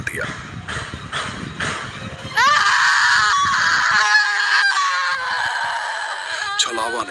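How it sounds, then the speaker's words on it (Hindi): A shrill, wailing scream from the Chhalava spirit in a children's horror story rises sharply and holds loud for several seconds, layered over a dense, dramatic background of effects. "छलावा ने चीख मारी"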